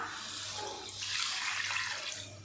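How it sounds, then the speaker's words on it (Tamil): Water pours steadily into a pot of sautéed mutton bone curry with drumstick, a soft continuous gushing that swells slightly midway, heard alone without talk. "இப்போ இதில் மட்டன் எலும்பு வேகிறதுக்கு தேவையான அளவுக்கு தண்ணி சேர்த்துக்கலாம்"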